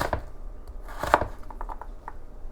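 Knife slicing beets and carrots on a board, a quiet series of close, irregular cutting taps with one firmer chop in the middle.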